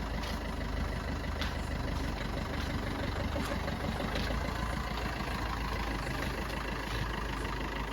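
A vehicle engine idles steadily at close range as it pulls over to the roadside, a continuous low rumble that stays level throughout.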